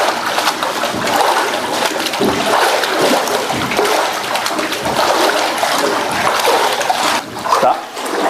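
Continuous loud splashing and churning water from someone skipping high on an underwater treadmill in a HydroWorx physical therapy pool during hip flexor rehab, steady throughout with no clear voices.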